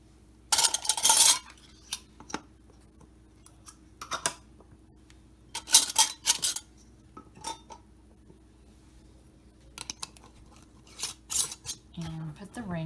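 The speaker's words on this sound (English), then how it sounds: "So now I'm just going to put the lids on." Metal canning lids being set onto glass jars of beef for pressure canning, a series of sharp close clinks and clatters in irregular bursts with quiet gaps between.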